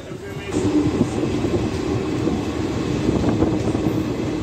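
Train pulling away from Nadiad Junction, a continuous close rumble of wheels and carriages with faint knocks, and voices murmuring under the noise.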